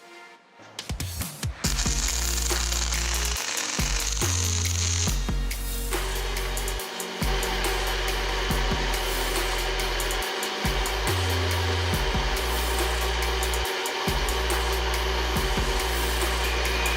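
Steel parts held in line by a centering pin are welded, giving a loud, continuous hissing buzz with shifting low hum that carries through the whole stretch.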